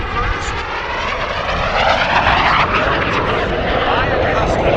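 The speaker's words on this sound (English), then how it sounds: "Let's watch this Mini Jet." A SubSonex mini jet flies at a military air show, its engine roar rising and sweeping past steadily for several seconds, loud and fairly close, with a commentator talking over it.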